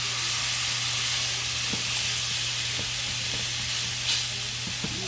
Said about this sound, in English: now I'm getting ready to put the last two in, okay? These are big.